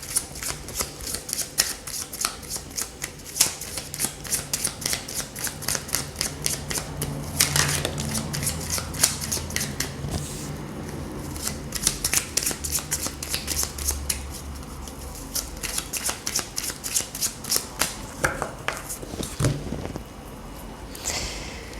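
Tarot cards shuffled by hand in repeated quick riffling bursts, a close and steady papery flutter with brief pauses between runs, carrying on for around twenty seconds with no talk.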